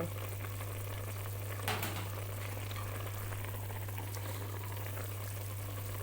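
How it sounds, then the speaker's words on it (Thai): Fish ball clear soup boiling in a pot, a steady low bubbling and simmer with a constant hum beneath and one brief clink partway through, with no talking. "แล้วก็ต้มสักพักหนึ่งนะคะ"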